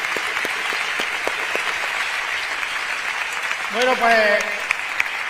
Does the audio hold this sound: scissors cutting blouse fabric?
no